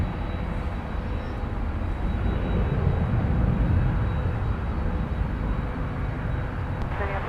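An airliner inbound from Puerto Vallarta lands at MSP airport, a steady loud broadband roar of jet engines lasting throughout with no pauses.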